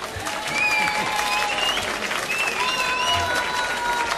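Live concert audience applauding for the drummer, a dense, steady wash of clapping with a few cheers and whistles mixed in, holding loud from start to finish.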